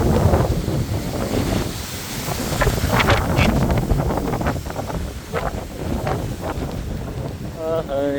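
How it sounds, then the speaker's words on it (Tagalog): Strong wind buffets the microphone on a high vantage point, a loud, gusty rumble that rises and falls throughout, with faint water or wave sounds beneath it. "Lakas talaga ng hangin, no?"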